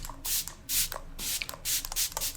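Several short, close, hissing bursts of Fix Plus setting spray from a pump mist bottle, fired in quick succession with brief pauses between them.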